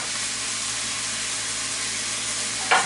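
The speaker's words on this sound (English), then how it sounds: "I'm just going to warm up the cauliflower because it's pretty much already cooked" Already-cooked cauliflower warms in a pan with hot sauce, giving a steady, even sizzle and hiss of frying throughout, with one brief louder scrape or stir near the end and no talking.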